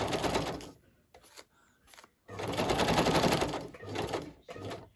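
A sewing machine stitches a zigzag across fabric scraps in short, loud bursts of rapid mechanical chatter, separated by brief pauses.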